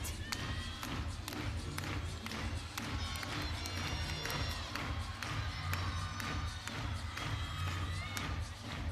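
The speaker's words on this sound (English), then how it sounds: "The crowd is getting involved." Arena crowd at a college gymnastics meet between Rutgers and Iowa cheers and claps steadily through a floor routine, a dense, continuous roar of voices with sharp landing thuds and taps from the mat cutting through.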